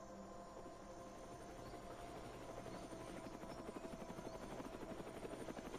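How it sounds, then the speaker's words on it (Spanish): Helicopter sound effect in a horror audiobook, a steady rotor drone with rhythmic blade chop that grows louder and more pronounced as it approaches, with no voices. "el sonido de un helicóptero comenzó a aumentar en volumen."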